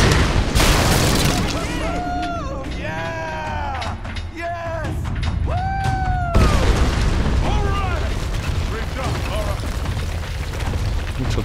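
An explosion in the video game Tomb Raider sets off a loud, sustained rumbling roar with crashing debris. A cut-off start opens it, and someone speaks over the top of it.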